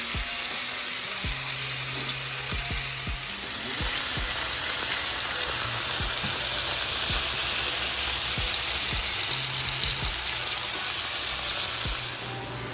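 Pork tenderloins sear in a hot skillet, giving a steady, loud sizzle that lasts throughout, with occasional soft knocks and scrapes as the meat is pressed and moved, and no voices.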